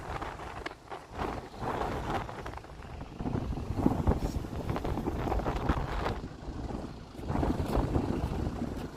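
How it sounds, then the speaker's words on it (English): Wind gusts buffet the microphone on Grand Turk island in the Turks and Caicos, a constant loud rushing roar that swells and eases without letting up. "I know it's a little bit windy"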